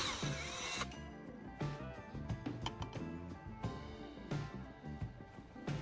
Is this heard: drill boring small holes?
yes